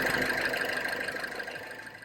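A 2nd-generation R56 MINI Cooper S engine idling with the hood open during cooling-system bleeding, a steady mid-pitched hum with faint rattling, close by and gradually easing in level.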